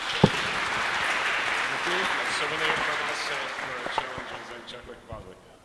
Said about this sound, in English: A big applause to Karel.